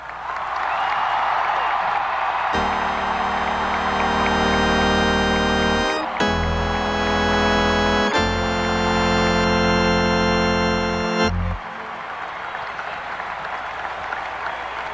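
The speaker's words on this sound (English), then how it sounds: "I'd like everyone to give a great cheer for Martha Johnson" A large celebration crowd at the 1992 Pittsburgh Penguins Stanley Cup rally applauds and cheers for Martha Johnson. Loud, sustained clapping and roaring fill the space, with steady musical tones sounding underneath for much of it.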